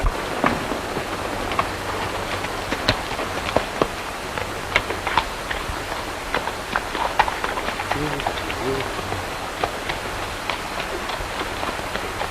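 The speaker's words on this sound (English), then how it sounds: "Looks like Madigan's horse" Horse hooves clip-clop in an irregular run of sharp knocks through a 1936 Western scene, heard over steady background hiss.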